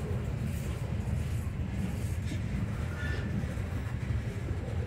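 A Norfolk Southern freight train of mixed cars rumbles past continuously with a low, steady roar and faint rattling of cars, heard from outside at moderate distance.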